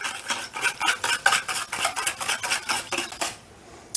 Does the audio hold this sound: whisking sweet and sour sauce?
yes